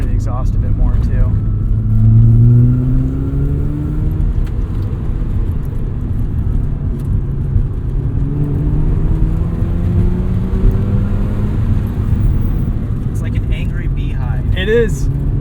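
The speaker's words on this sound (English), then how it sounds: "I'll be able to hear the exhaust a bit more too." A 1990 Mazda RX-7 engine drones steadily from inside the cabin with a window open, with wind rush, exhaust note and a couple of rising revs, while people talk over it.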